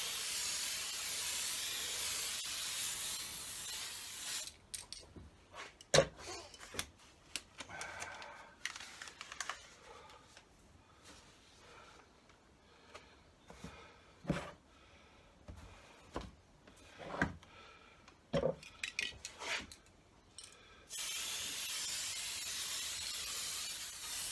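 Gloss white spray paint hisses onto a P51 Mustang model in close, steady bursts at the start and end. Quiet clicks and handling noises fill the pause between the bursts.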